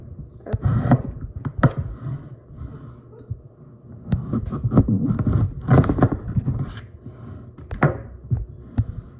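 A knife working through a pumpkin to halve it, giving repeated dull thuds, crunches and scraping strokes in an irregular rhythm, close and fairly loud with no talking.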